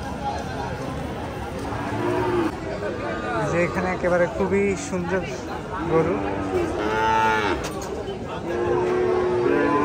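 Cattle at a rural cattle market moo repeatedly, several long lowing calls up close, while people chat and bargain nearby throughout.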